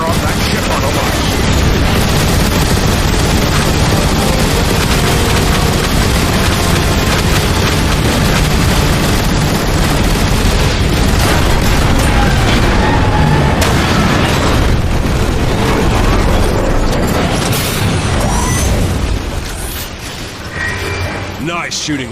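Laser blasts and explosions pound a Decepticon warship as Autobots focus fire on it in a Transformers movie battle, a dense, continuous roar of booms and mechanical clatter mixed with score and voices for over twenty seconds, easing slightly at the end.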